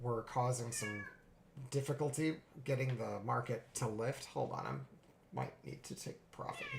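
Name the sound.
cat meowing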